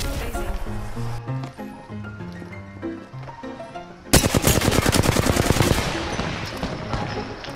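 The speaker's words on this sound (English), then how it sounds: "I'm getting shot." Gunfire in the battle royale video game Apex Legends: a rapid machine-gun burst with sharp, evenly spaced shots bursts in midway, loud and close, after a stretch of game music and talk.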